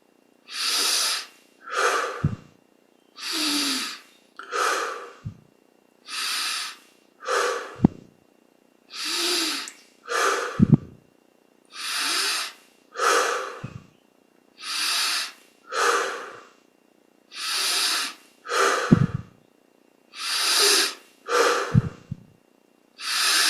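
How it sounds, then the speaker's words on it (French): Deep breaths during a guided yoga meditation, roughly a dozen long inhale-exhale cycles in a steady slow rhythm, close and loud, with occasional soft snorts, and no talking. "On prend une vingtaine de respirations en essayant de garder un petit détachement avec ce que fait le corps."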